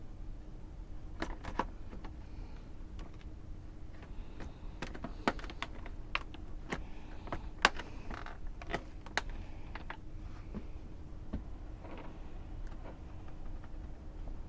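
Typing on a Dell Vostro 3550 laptop keyboard, a run of sharp, close key clicks in irregular bursts over a faint steady hum, with no talking.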